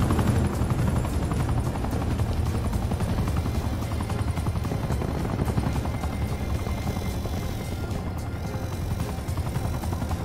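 Helicopter in the Black Ops 4 shooter game: a continuous rotor thump and engine roar, loud and close, with a rapid chopping pulse holding steady throughout, without pause.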